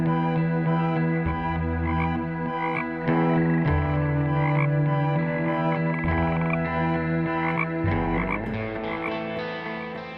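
A loud, dense chorus of frogs croaking continuously, many overlapping calls with steady droning tones, no voices present.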